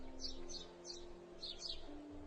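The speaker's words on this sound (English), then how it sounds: "to the sounds of those chirps" Backyard birds chirp in quick, high bursts, several short calls spaced across a couple of seconds over a faint steady hum, fairly quiet and distant.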